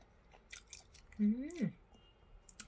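Someone chews a mouthful of durian with rice close to the microphone, with soft wet crunches and a brief hummed murmur of enjoyment in the middle.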